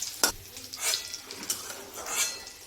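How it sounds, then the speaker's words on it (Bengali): A few scraping clinks of a metal spoon against a pan lift fried jackfruit pieces out of hot oil over a soft sizzle, close and fairly quiet. "এবার এগুলো আমি তুলে নেবো, তেল ঝরিয়ে তুলে নিচ্ছি।"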